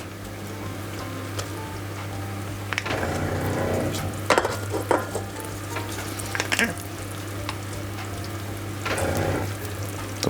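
Butter and almonds sizzle in caramel for nougatine, giving a steady close frying hiss with occasional crackles and stirring scrapes over a low hum.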